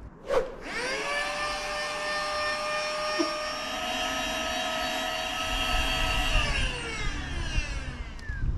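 A Flextail Max pump inflates a Gumotex Twist inflatable boat with a steady, close, high-pitched whining drone. The pitch sags slightly near the end as the pump winds down.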